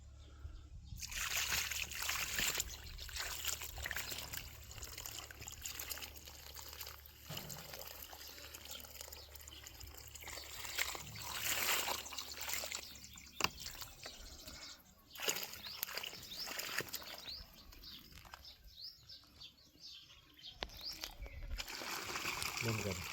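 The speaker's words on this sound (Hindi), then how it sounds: "अब इसके अंदर पानी डालेंगे।" Water poured from a bucket onto a potted plant, a continuous splashing and trickling that runs throughout with some surges, close by, with faint background noise.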